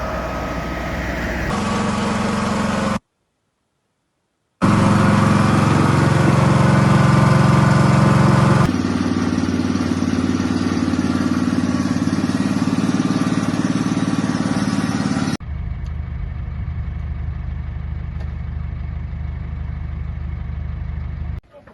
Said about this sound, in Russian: Техника работает. Приступили к перекачке.